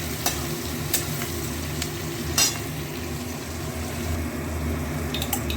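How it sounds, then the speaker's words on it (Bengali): Onion and potatoes fry in a pan for a traditional rajma dish, a steady low sizzle with a few sharp stirring scrapes and clinks, close and continuous with no talking. "পেঁয়াজটা একটু ভাজা হয়ে গেছে"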